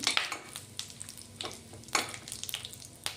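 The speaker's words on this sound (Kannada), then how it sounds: "ಎಣ್ಣೆ ಕಾದ ಮೇಲೆ ಇದನ್ನೆಲ್ಲ ಹಾಕಿ ಸ್ವಲ್ಪ ಹೊತ್ತು ನಾನು ಇದನ್ನು ಹುರಿತಾ ಇದ್ದೀನಿ" Whole spices (cardamom, cloves, pepper, cumin and bay leaf) frying in hot oil for a paneer matar curry, a soft crackling sizzle with a few louder stirring scrapes and pops, close and alone.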